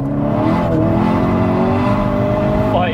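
A Seat Ibiza Cupra with a 1.8 engine and Stage 3 tuning revs high and loud, holding a sustained, rising engine note. A voice can be heard faintly beneath the engine.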